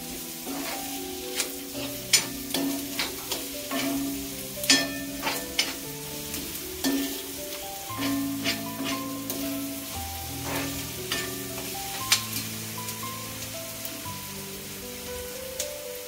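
Sliced onion frying alongside bitter gourd in a pan, with a continuous crackling sizzle punctuated by repeated sharp spoon scrapes and taps as it is stirred and pressed, and no voices.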